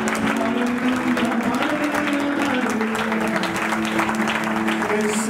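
A church congregation claps and cheers for Jesus in sustained, even applause with crowd voices mixed in, loud and continuous throughout.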